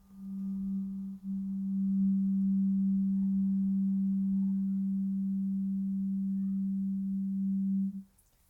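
A planetary tuning fork tuned to Earth rings with a steady, pure low hum, sustained for about eight seconds before it cuts off, with a brief dip near the start.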